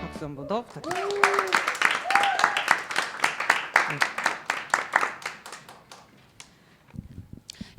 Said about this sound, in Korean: 열일하신 우리 세 분께 박수 한 번 더 부탁드립니다.